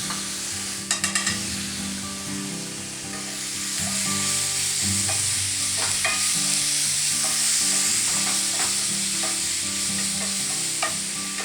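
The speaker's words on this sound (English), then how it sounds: "Just gonna throw a scoop of this cut up garlic in here." Fresh lamb liver and chopped garlic sizzle loudly in a pan, a continuous close frying hiss that swells as the garlic drops in, with a few sharp utensil clinks early and scraping stirs throughout.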